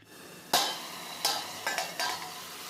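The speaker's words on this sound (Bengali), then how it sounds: "ঢাকনা খুলে এটাকে আবার আমি নাড়াচাড়া শুরু করে দিচ্ছি" Ridge gourd and potato curry is stirred in a pan in four or five distinct scraping strokes, each a sharp utensil scrape over a faint background sizzle.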